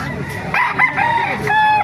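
A rooster crows once nearby at a market, a loud drawn-out call rising and falling over background noise and faint chatter.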